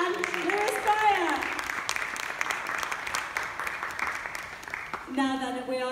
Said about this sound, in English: A huge round of applause for Peter Pan, Lewis Pryor